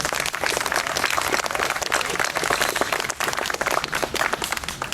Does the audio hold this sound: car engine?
no